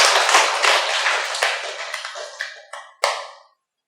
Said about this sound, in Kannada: ಗಟ್ಟಿಯಾಗಿ ಚಪ್ಪಾಳೆ ಮೇಲೆ.